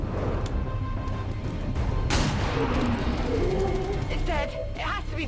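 Pistol fire in XCOM 2: War of the Chosen, a few sharp cracks over a busy game soundscape with voices talking throughout.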